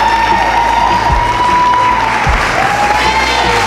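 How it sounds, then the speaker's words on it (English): Loud, steady audience applause mixed with crowd cheering and whoops fills a dunk contest arena, sustained throughout with a faint tonal whistle running across it. "Please give him another round of applause."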